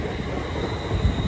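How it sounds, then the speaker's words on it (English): A passing train at a busy mainline junction, with a flat wheel on its rear carriage, gives a steady close rumble with heavier thumps near the end of the short burst. "it sounds like a flat wheel"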